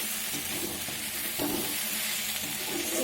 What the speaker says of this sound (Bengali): একটু ভেজে ভেজে নেবে, তাহলে মশলার গন্ধটা চলে যাবে